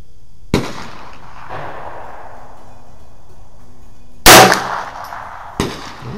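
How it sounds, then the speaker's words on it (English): A handgun fires at cardboard targets on an outdoor range, shown here as three sharp, loud shots spaced unevenly across several seconds, each with a decaying echo and no talking. "I'll shoot them from left to right"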